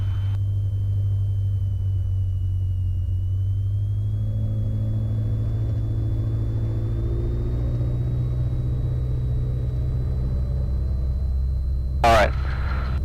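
A light aircraft engine held at higher throttle, around 2,000 rpm, during a run-up, a loud steady low drone with a faint rising whine over it, heard from inside the cabin, with a brief click near the end.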